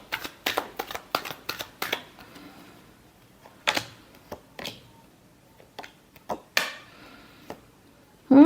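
A tarot deck is shuffled by hand in quick bursts of riffling card flutter, followed by a few sharper isolated slaps and taps as cards are handled, close and crisp against a quiet room.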